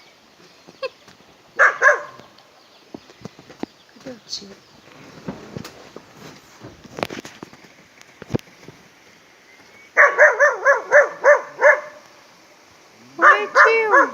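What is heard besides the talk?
dog barking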